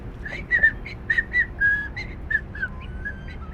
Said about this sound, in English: He was whistling a happy tune.